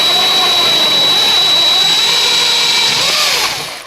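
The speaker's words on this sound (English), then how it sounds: "just like before I'm going to use a 10mm masonry bit, and I'm going to drill a hole on the two marks" A power drill fitted with a 10mm masonry bit bores through plasterboard, a loud, steady high whine that runs for several seconds before winding down abruptly at the end.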